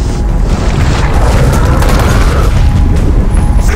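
A grenade explosion in the shooter game Gears of War 4, a loud sustained booming roar with heavy low rumble and debris noise that carries on without any voices.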